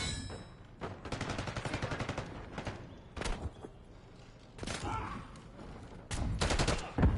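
Rapid automatic weapon fire in the shooter game FragPunk, several loud bursts of shots with short pauses between them, broken up by sharp single blasts.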